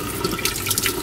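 Water draining out of a pressurized home plumbing system through opened valves during a kitchen faucet replacement, a steady close hiss and trickle running throughout the short stretch.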